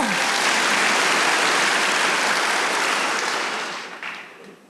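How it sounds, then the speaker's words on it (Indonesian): A church congregation gives loud, dense applause in praise of God during a service, a steady wash of clapping that tapers off toward the end. "Tepuk tangan buat Allah kita."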